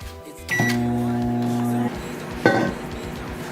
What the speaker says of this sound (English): Now you just put it in the microwave for 1 minute and 50 seconds.